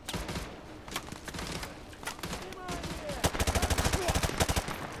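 Rapid gunfire in Call of Duty Modern Warfare 2 Remastered, scattered shots building into fast automatic bursts, loud and close.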